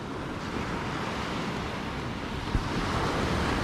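Calm ocean surf on a beach near Sayulita, Mexico, rolls in as a steady, dense wash with wind noise, with a faint thump near the middle and no voices.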